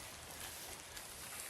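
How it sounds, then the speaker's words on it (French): Steady outdoor rain, a soft, even hiss that holds without a break for the whole moment, faint and fairly distant, with no voices over it. "il pleut"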